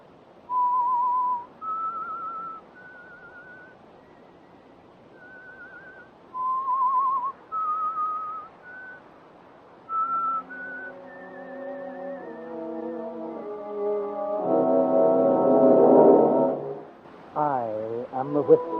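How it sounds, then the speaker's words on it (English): A whistled signal tune for The Whistler radio drama: a lone whistler carries a slow, rising melody in clear sustained notes, then an orchestral swell and brass chords take over near the end. "That whistle is your signal, the Whistler."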